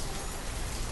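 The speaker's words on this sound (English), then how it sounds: "The incessant rain." Steady, incessant rain in the city-building game Banished, a dense wash of raindrops hitting surfaces with no pause, loud and close throughout, with no voice.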